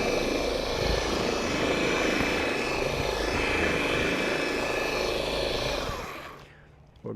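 A polishing machine set to speed 1 spreads 3D one-step compound across a pad, giving a steady, close, droning motor whir with a rough buzzing texture that winds down and stops near the end.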